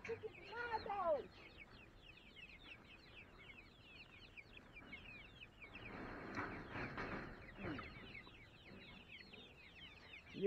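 Chickens in a large DIY coop clucking softly among repeated chirping calls, with a louder burst of clucks near the start and a quiet hum of activity around them.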